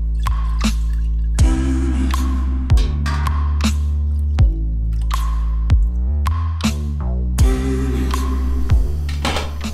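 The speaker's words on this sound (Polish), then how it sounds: "Teraz właśnie zagotowuje się już zakwaszona brzeczka" Soured wort for a fruity sour beer coming to the boil in a brewing pot, with irregular close bubbling pops and plops over a steady low hum.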